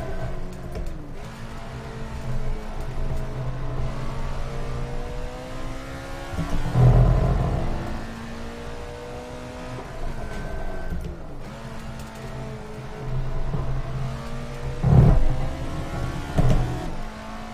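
An Alfa Romeo 33 Stradale with a 2-liter V8, driven in Assetto Corsa at Monza, screams steadily through rising revs, with two brief shift breaks and a loud, continuous engine note throughout.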